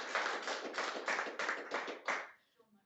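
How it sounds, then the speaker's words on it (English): A photography club audience at a competition critique and results evening claps in a brisk, steady round of applause lasting about two seconds before it fades out. "So a round of applause for John, please."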